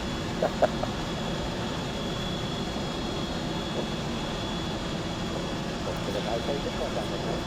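The jet engines of an Avro Vulcan XL426 bomber rumble and whine steadily as it taxis on an airfield, a continuous roar heard from inside or nearby, with people talking over it.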